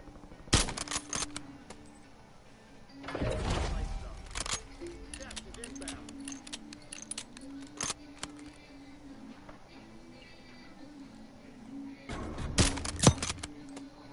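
Gunfire in Call of Duty Warzone on Rebirth Island comes in short rapid bursts near the start, middle and end, loud and close, under steady in-game hum and a player's excited voice.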